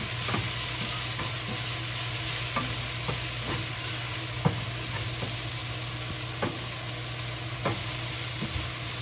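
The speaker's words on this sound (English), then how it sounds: "Just slowly fry until pork is fully cooked." Pork fries in a pan with a steady, dense sizzle throughout, broken by small pops and crackles and the occasional clink of stirring, with no one speaking.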